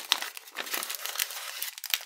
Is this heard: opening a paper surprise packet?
yes